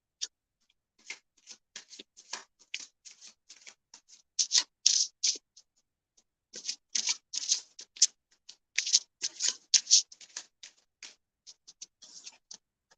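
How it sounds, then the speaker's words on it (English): Tarot cards shuffled by hand in a string of quick papery riffles and soft slaps, close and fairly quiet, coming in uneven bursts with brief pauses between them. "I'll give you a moment while I shuffle the cards."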